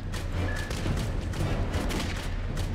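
A frag grenade goes off in Clive Barker's Jericho. It lands as a loud, rumbling blast inside a dense stretch of overlapping gunfire and explosions, and the roar holds for the whole moment with no voices.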